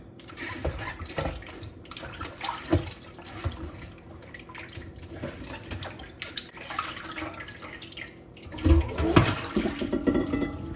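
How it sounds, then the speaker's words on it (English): Tap water runs steadily over a raw pork shoulder being washed in a kitchen sink, with the flow rising and splashing louder near the end. No speech is heard. "for some reason I just love to wash my meat"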